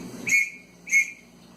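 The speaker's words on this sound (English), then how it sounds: "Look, it comes with a nice whistle." The whistle from an airplane life vest is blown twice, giving two short shrill blasts about half a second apart that sound loud and close, with quiet between them.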